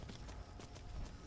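Quick rhythmic clip-clop of horse hooves in the video game Skyrim, a steady trotting beat under a low rumbling background.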